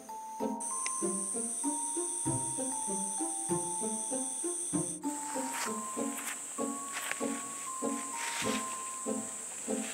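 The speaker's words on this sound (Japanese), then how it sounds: "セミが鳴いています。" Cicadas chirp at night in a city park under the lights, a steady, shrill, high-pitched drone that runs the whole time over softer rhythmic sounds underneath.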